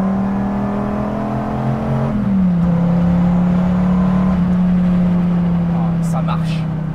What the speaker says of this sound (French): là il passe dans sa deuxième phase où il prend des tours